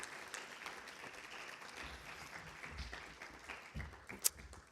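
Applause from a concert audience at a fundraiser at Kapi'olani Community College, a faint, steady patter of many hands clapping together, with one sharper clap standing out near the end.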